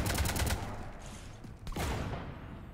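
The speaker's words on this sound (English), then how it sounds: "You want to stop shooting up my ship?" Rapid gunfire pelts a ship in Mass Effect 3, dense rattling bursts with a short lull and a sharp crack before the shooting resumes loudly.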